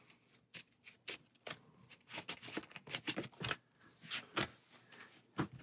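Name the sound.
shuffling Marvel Champions card game cards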